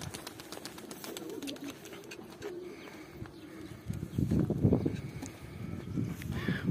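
Pigeons near a loft on a hot day, with soft cooing calls over steady outdoor background, growing louder and busier toward the end as birds fly in and land nearby.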